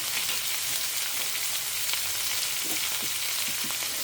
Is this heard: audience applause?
no